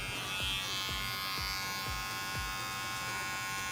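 Electric hair clippers buzz steadily and up close while trimming a low drop fade, with faint rhythmic pulses as the blade passes through the hair; no one speaks.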